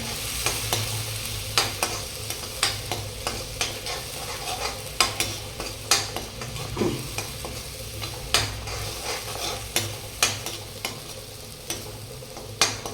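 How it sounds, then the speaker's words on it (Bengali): Spice paste frying in hot oil for a fish curry gives a continuous soft sizzle, broken by regular sharp scrapes and taps as a spoon stirs the pan, heard up close with no talking. "এটাকে ভালো করে ফ্রাই করবো মশলাটাকে।"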